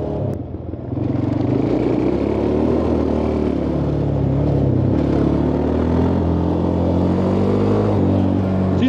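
A Suzuki LTZ 400 quad's engine runs steadily while riding, a loud, close, continuous rumbling drone with harmonic tones that shift slightly in pitch as it holds speed, heard alone after a brief dip at the start.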